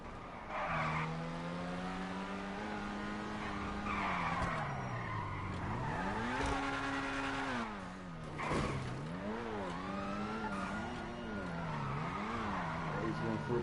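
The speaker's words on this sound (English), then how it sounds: "Looks like he's got drifting tires on." A car on drifting tires skids and squeals through long sliding turns in GTA Online, the tire whine rising and falling continuously over steady engine noise for the whole stretch.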